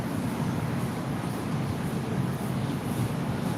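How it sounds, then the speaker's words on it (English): Wind blows outdoors in Cebu, Philippines, a steady, dense rush buffeting the microphone with low rumble, continuous and fairly loud with no voices. "are you guys hearing the wind right now?"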